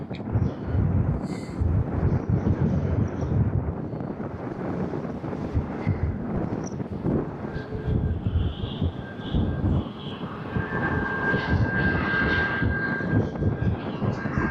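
A fixed-wing airliner taking off at Fuerteventura Airport, heard as a steady, loud broadband engine roar with wind buffeting the microphone, holding strong throughout with a faint rising whine later on.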